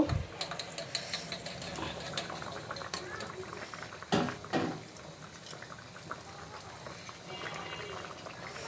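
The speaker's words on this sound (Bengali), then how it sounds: "দেখো ঝোলটা সুন্দর ফুটছে" Fish curry broth thinned with water bubbles in a pot, a steady low simmering texture with a few louder clinks and knocks near the start and around the middle.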